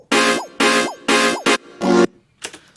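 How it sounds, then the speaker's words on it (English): Electro house whoop synth built from simple saw waves in Ableton's Operator and Redux: four bright, loud bursts, each ending in a quick upward pitch swoop, then a sustained chord-like stab and faint trailing echoes. "I wanted like a little, very electro house little whoop sound."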